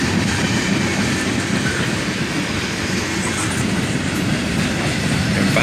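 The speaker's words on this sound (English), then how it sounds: "Finally, the end of the train goes by." A long CSX freight train rolls steadily past nearby, its wagons giving a constant loud rumble with wheel clatter and faint squeal throughout, the end of the train going by.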